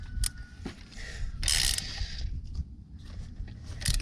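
Ratcheting wrench clicks while torquing down a spark plug on a 2011 Kia Soul, a few close bursts of ratchet clatter with a louder stretch in the middle, no talking.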